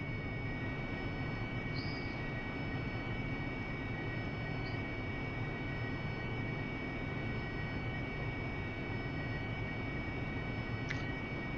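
An AV-8B Harrier jet engine at full power gives a steady, dense roar throughout, with no talk.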